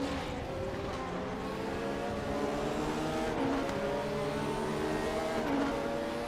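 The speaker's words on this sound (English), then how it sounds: "Sounds good with the Judd V8." A Judd V8 engine in a prototype race car at Bilster Berg in RaceRoom Racing Experience runs steadily and loudly, with layered harmonics that stay level and rise slightly in pitch near the middle and end.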